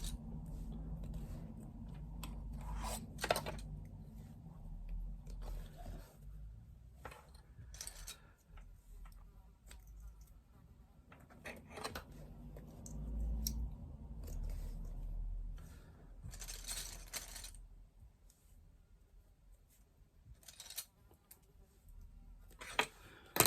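Scissors snipping into the fabric lining of a retro clutch, a series of sharp, quick clicks scattered over a low room hum, moderately close and fairly quiet.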